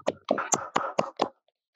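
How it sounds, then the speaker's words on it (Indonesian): Six evenly spaced hand claps ring out in a steady rhythm at the opening of a podcast recording, crisp and close, then stop, leaving silence. "tepuk tangan dong teman-teman."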